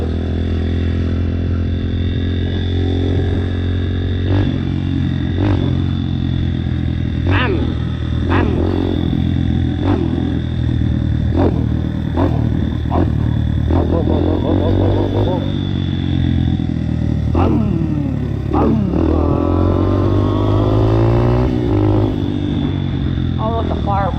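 Dirt bike being ridden: a loud, close engine revving up and down in repeated bursts, with clattering and bumps from the terrain, and a rider's voice heard intermittently over the motor.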